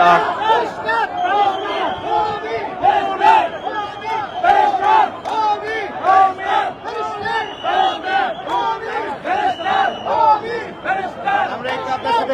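Crowd of Dhaka District BNP party supporters chanting assorted slogans in unison at a rally welcoming Begum Khaleda Zia, loud and continuous with rhythmic shouted phrases and crowd chatter throughout.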